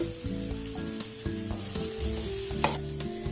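Spices with turmeric and chilli sizzle and fry in a pan, a steady close crackling hiss with occasional sharper pops and stirring scrapes, no voices over it.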